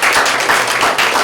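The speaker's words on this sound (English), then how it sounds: "So give Josh a round of applause" Brief burst of applause in an office meeting, a small group clapping loudly and close by for just over a second.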